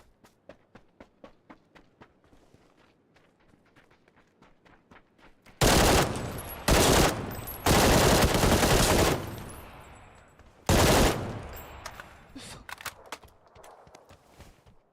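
Rapid bursts of PUBG gunfire, several loud automatic volleys with short gaps, preceded and followed by quieter rhythmic footsteps.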